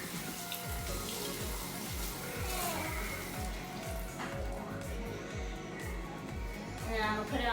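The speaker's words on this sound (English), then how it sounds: "now I'm just gonna rinse it to take all of the stuff off that's stuck on it." Corn being rinsed under a running kitchen tap, a steady broadband water rush continuing throughout with irregular splashing and clatter, fairly loud and close.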